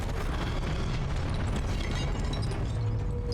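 The Confringo explosion spell bursts in the Hogwarts Legacy video game, a dense, loud, sustained rumbling blast with crackling debris filling the whole moment.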